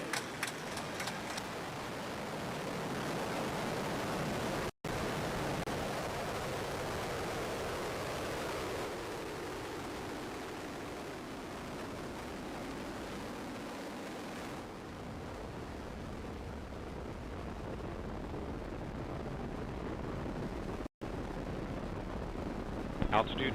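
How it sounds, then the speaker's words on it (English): The Ares I-X test rocket ignites and lifts off in a NASA launch, a loud, broad, continuous roar that holds steady for over twenty seconds, with a voice faintly present in the mix. "And ignition and liftoff of Ares 1X."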